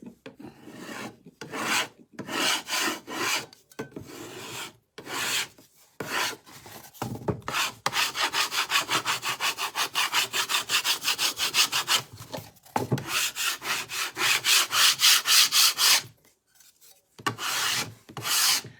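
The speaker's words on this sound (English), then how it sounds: "So you can scrape off as much or as little as you want." Hardened candy-cane candy being scraped, a run of rapid rasping strokes that speeds into a steady close scratching texture, with short pauses between bursts and no talking.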